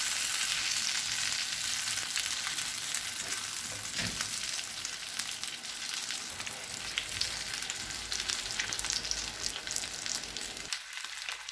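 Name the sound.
chicken frying for chicken mandi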